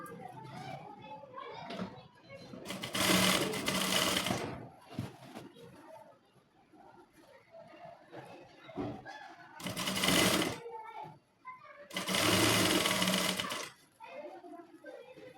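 A sewing machine stitches fabric for a zip and sleeve in three loud, rapid whirring bursts separated by pauses, with voices talking quietly in the gaps.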